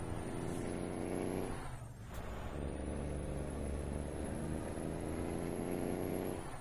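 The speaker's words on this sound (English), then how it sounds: "We do have some great engine sounds here" A Kenworth W900 sleeper semi in American Truck Simulator rumbles steadily, a loud, low diesel drone that dips briefly before swelling back and holding under a whining high tone.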